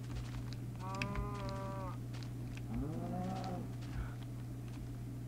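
Cattle mooing in a farming video game: two drawn-out harmonic moos, a higher one followed by a lower, rising one, heard alone over a steady low hum.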